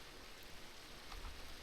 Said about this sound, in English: Pour down rain. Of course it is.